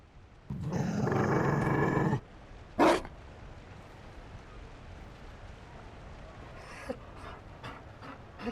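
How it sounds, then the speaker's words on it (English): A Mabari war dog in Dragon Age: Inquisition pants and growls in a short, loud, breathy burst, followed by a brief huff and quieter snuffling over a low game ambience. "You found a dog? They don't breed Mabari in Orlais."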